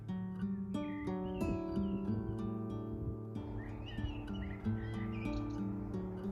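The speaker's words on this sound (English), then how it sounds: "Birdsong in general is such a delight this time of year." Springtime songbird calls, bright chirps and short whistled phrases, ring out repeatedly over a steady musical backing, fairly near and clear.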